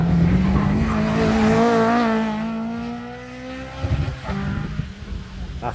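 A fast car takes a corner at the Curborough sprint track, its engine note rising loud and close, then easing and fading as it passes, with a faint tyre squeal through the bend and no talk over it.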